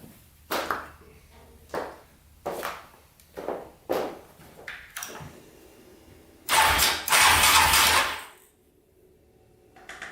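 Yamaha Raptor 700 ATV engine cranked over without firing, spark plug cap removed, to pump oil: about six short starter bursts in an uneven rhythm, then a longer, louder sustained crank, close and with no voices.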